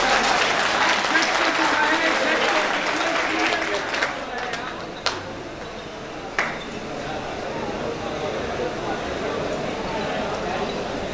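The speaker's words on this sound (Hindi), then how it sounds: "दोस्तों जोरदार तालियों से" Loud, sustained applause from a large Indian mushaira poetry audience fills the hall, a dense steady clapping that slowly thins with a few louder isolated claps near the end.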